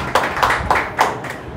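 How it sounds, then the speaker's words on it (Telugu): A church congregation at Sunday worship claps hands in a few loose, quick beats, close and moderately loud, with no voices over it. "చప్పట్లు కొట్టండి."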